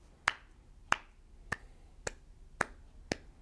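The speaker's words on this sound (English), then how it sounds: "That was my attempt at a slow golfer's clap for the NASM crew" Six slow, evenly spaced sharp hand claps sound at close range, each crisp and isolated against quiet room tone.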